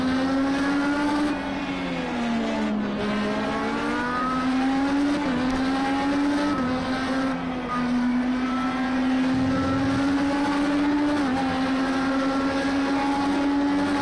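IndyCar race car screaming around Laguna Seca in Project CARS 2, a loud, sustained high-pitched engine whine that rises and dips with gear changes and corners, alone without talk.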